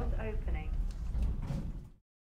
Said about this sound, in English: Doors opening.